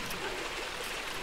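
Steady broadband rush of water running in a stream outdoors, continuous and fairly soft, heard on its own without talk for just over a second.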